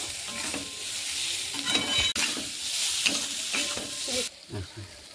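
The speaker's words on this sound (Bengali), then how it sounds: "কিন্তু আমি একটু হালকা ফ্রাই করে নিলাম, খেতে একটু টেস্টি হবে তার জন্য" Momo filling seasoned with Maggi masala is lightly stir-fried in a pan, with repeated scraping strokes of a spoon over a soft sizzle, coming in uneven bursts, close and fairly quiet.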